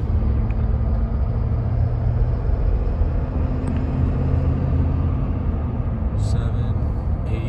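Cabin drone of a 2020 Ford F350 Lariat Sport with the Powerstroke diesel cruising in eighth gear, a steady low rumble with road noise throughout, loud and continuous.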